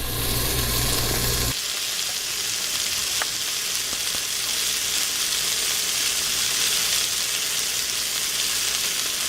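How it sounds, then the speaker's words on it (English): Venison pieces browning in an Instant Pot give a steady, loud, unbroken sizzle that runs the whole time, with no talking. "So it looks like these are starting to brown up pretty nicely."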